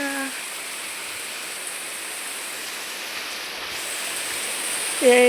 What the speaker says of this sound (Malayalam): മഴ പെയ്യുന്നു കണ്ട